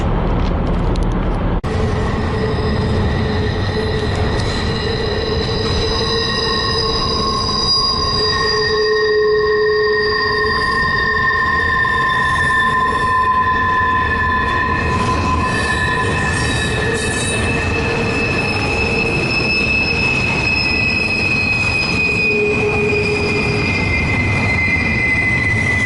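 A train rolls past on the railway by the Gallitzin tunnels in Pennsylvania, its wheels squealing in long, steady tones over the low rumble of the cars. It is loud and close, it lasts throughout, and no one talks.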